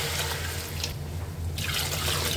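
Water poured into a pot of chicken for rice, a steady splashing trickle that briefly thins in the middle, then resumes at full strength, close and alone.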